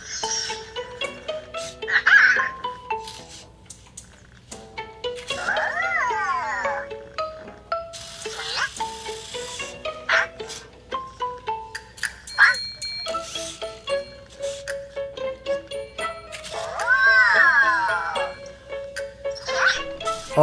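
Cozmo toy robot giving out a series of short, high, electronic cat-like meows in separate bursts, with a few chirps and jingling tones between them and no talk over it.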